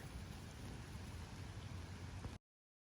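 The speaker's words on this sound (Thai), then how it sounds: "ฝนลงเม็ดเลยมาเห็นไหมคะ" Rain begins falling outdoors in a garden in Thailand, a steady dense patter that runs constantly at low level and then cuts off abruptly.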